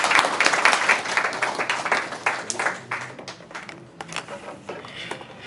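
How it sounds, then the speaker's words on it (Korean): Applause breaks out at a workshop in Korea, dense clapping from a seated group that starts strong, then thins and tapers into scattered claps. "박수 부탁합니다"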